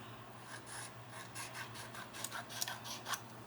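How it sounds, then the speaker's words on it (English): Paper is trimmed away around a photo, faint close rasping cuts and light rubbing strokes that grow a little sharper toward the end, in a quiet room without talking. "I'm just going to trim the white off around it."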